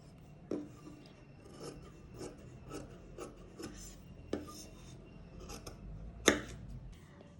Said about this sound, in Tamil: இப்போ இதில் எக்ஸ்ட்ராவாக இருக்கிற துணியை வந்து கட் பண்ண போகிறேன்